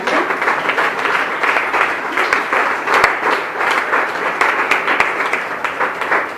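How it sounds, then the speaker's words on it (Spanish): An evangelical church congregation gives loud, sustained applause to the Lord during a service, with the full room clapping steadily and a few sharper claps standing out. "¿Cuántos le brindan un fuerte aplauso al Señor?"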